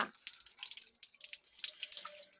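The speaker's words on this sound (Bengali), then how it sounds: "হাতটা ধুয়ে নেই" Hands being washed under a running water tap outdoors in a rural kitchen setting, a steady splashing trickle with scattered drips, fairly close and moderately loud, no talking.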